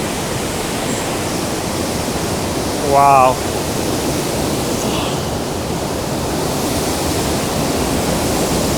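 Tännforsen waterfall in Sweden roars as a steady, loud, full rush of falling water that fills the whole clip, with a brief excited exclamation from a person near the start.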